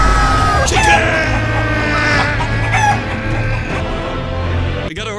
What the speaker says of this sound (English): Chicken Feet is a first-person survival stealth horror game about a giant angry chicken.